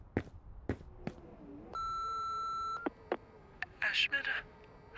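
Telephone voicemail playback in the horror video game Remothered: Broken Porcelain, with sharp clicks followed by a steady electronic beep tone and a few short bleeps and chirps.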